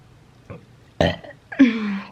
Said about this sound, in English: The burping nonstop all day.